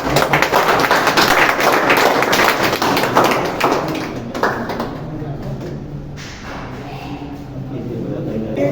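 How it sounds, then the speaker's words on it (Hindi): An audience at a student felicitation event claps to welcome a guest, dense rapid hand claps for about four seconds that fade into quieter room noise and scattered taps. "आप लोग हैंड क्लैपिंग करिए जोरदार"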